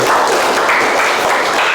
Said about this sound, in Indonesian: Oke, tepuk tangan dulu buat kelompok 1.